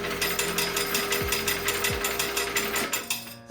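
A Hamilton coin hopper, freshly rebuilt and hand-loaded with tokens, runs a manual test, its motor turning with a rapid, steady mechanical ratcheting clatter close to the microphone before winding down near the end.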